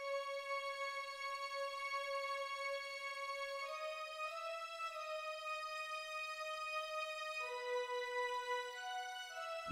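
A synthesized full orchestra patch from the Xenology instrument plays sustained chords in a 2000s R&B style beat, stepping through several chord changes, clean and steady with no other sounds.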